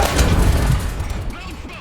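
Tank main gun firing in War Thunder, a single heavy close boom with a rumbling low tail fading over a couple of seconds.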